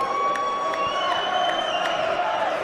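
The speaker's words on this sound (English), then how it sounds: "And the crowd goes wild" Crowd at a varsity ice hockey game cheering and whooping after a goal, a dense sustained roar with a whistle-like tone and a commentator's voice over it.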